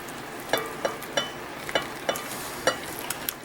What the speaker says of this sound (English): let's mix this together